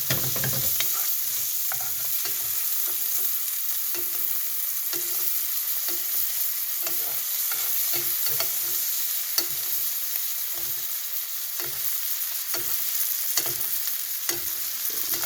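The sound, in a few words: butter sizzling in a frying pan while stirring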